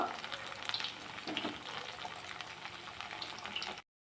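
Onion vada frying in oil on a lowered flame. A steady, fairly soft, close bubbling sizzle runs unbroken and then cuts off abruptly.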